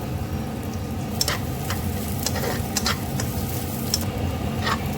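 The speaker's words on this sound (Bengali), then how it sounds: "এর মধ্যে এবার আমি কাজু কিশমিশটাও দিয়ে দিলাম ভাজা ভাজা করার জন্য" Rice frying in a pan with cashews and raisins added, a steady close sizzle with scattered soft crackles and light stirring scrapes, no voices.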